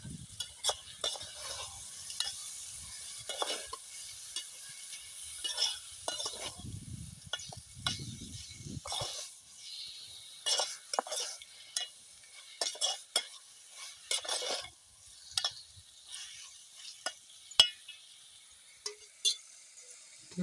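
A spoon scrapes and stirs chicken in a pan, cooked outdoors on a hilltop, in irregular strokes over a steady, soft sizzle, with occasional light clinks and no talking.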